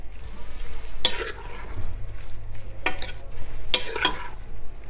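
Spices being stirred into bhindi qeema frying in a pan: a continuous sizzle broken by several loud scraping strokes of a spoon against the pan, close and clear.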